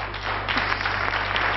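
An audience applauds steadily for Pascal Paradis, the junior world tennis champion, a dense wash of clapping at moderate loudness, slightly muffled, with no voices over it.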